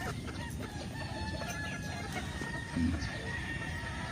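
Free-range chickens at feeding time on a farm, eight roosters and eight hens, with soft clucking and a brief rooster call near the end over a constant low background hum.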